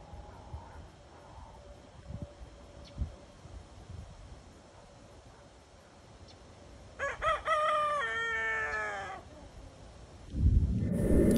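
A rooster crows loudly in a long, wavering call against quiet outdoor background noise, with a rustling thump near the end.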